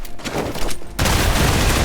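Gunfire at a barrel in Marvel's Midnight Suns, heard as a dense burst of shots that gives way to a loud, sustained blast-like roar, close and without talking.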